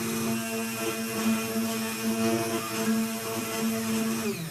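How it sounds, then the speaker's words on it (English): A hand blender whirring as it blends coffee with coconut oil, a steady high-pitched motor drone with a wavering tone, close and continuous throughout. "I take my hand blender,"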